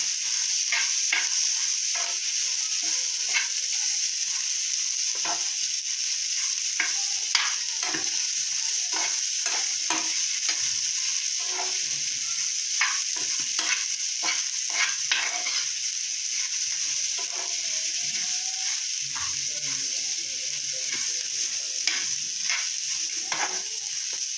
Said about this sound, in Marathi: तर चांगला असा परतून घ्यायचा।